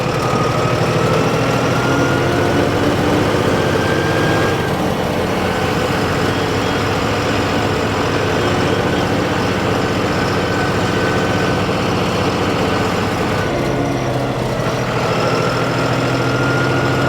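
A John Deere diesel tractor engine runs steadily at close range, a continuous low heavy drone with a constant vibrating hum that holds unchanged throughout, with no voices.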